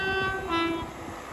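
Westminster Railway class 73 locomotives, numbers 019 and 016, pass through Watford Junction station on the West Coast Main Line, a near sustained two-tone horn blast over rumbling wheels and rail noise.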